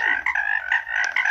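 Frogs croak in a Roblox game, a run of fairly loud, close, buzzy croaks in quick uneven bursts, with no voices over them.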